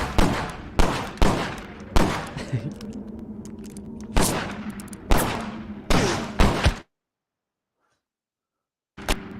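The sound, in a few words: gunfire in a video game (Grit)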